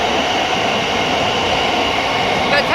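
A train at London St Pancras International low level platforms rumbles loudly and steadily in an enclosed underground station, with a faint squeal near the end.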